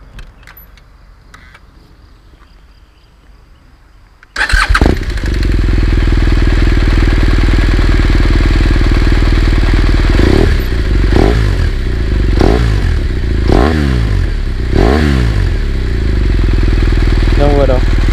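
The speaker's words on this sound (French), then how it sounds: "le démarrage est en fait assez caractéristique puisqu'il pète dès le démarrage" A BMW R1200R motorcycle is quiet at first, then its engine fires up with a sudden loud burst and settles into a close, steady idle. Several sharp throttle blips rise and fall toward the end.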